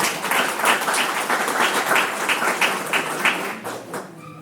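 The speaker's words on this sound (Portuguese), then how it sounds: "Uma salva de palmas, gente." Audience applause at an evening community event for women's legal advocacy in Brazil, a sustained round of many hands clapping nearby that gradually thins and fades out.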